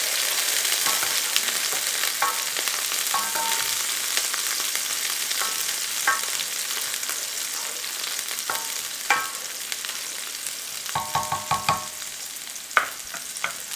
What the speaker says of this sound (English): our pan is nice and hot, and we're going to add the scallions. We're just going to lightly cook the scallions